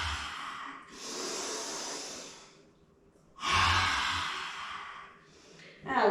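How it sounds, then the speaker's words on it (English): Forceful breaths in a yoga class, performed as lion's breath with the tongue out: a long breathy exhale, a pause, then another loud exhale, ending with the start of a sharp inhale. "We'll do 3 lion's breaths. So inhale, exhale, tongue out."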